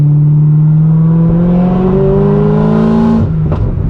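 A manual car revving up through its gears, engine note climbing steadily and loud, then a sharp drop at a shift before pulling again; no talk.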